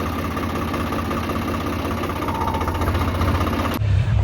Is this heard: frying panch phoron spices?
no